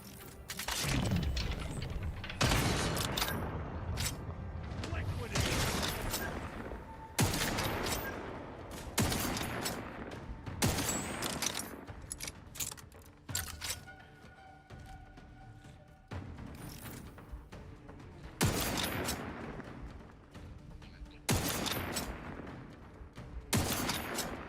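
Sniper rifle fire in the video game The Outer Worlds 2 comes as loud, sharp cracks spaced a few seconds apart over a dense din of other game sounds, with occasional crashes and impacts.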